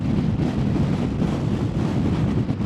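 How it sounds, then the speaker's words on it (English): Strong 50 mph wind roars across the Applecross Pass in the Scottish Highlands, a steady loud rumbling buffet that batters the microphone continuously with no break and no voices. "The 50-mile-an-hour wind blowing across."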